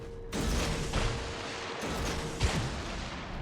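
Naval guns fire in the World of Warships game, heavy booming salvos landing as several deep blasts with rumbling tails over a few seconds, no speech over them.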